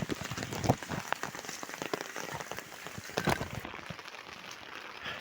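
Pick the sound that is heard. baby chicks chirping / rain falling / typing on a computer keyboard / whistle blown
rain falling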